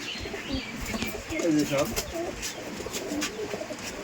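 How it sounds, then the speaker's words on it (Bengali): Rajshahi giribaz pigeons coo in soft, repeated low murmurs with a few chirps, fairly close, over a busy background where people talk. "ধরেন আমি কবুতরগুলো সবাই সাইডে দিচ্ছি সাইডে দেন"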